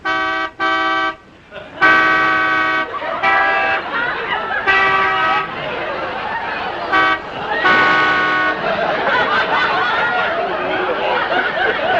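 A voice imitates Canada goose honking with a run of nasal, horn-like honks in bursts, mixed with laughter and chatter from several people.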